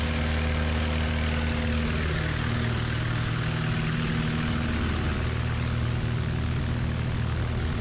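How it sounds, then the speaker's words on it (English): A propeller airplane takes off from a long runway at full throttle, its engine drone loud, steady and continuous throughout with strong low harmonic hum. "Airborne here in just a second."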